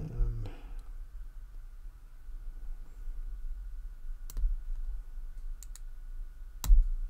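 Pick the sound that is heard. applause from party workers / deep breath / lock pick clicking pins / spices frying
lock pick clicking pins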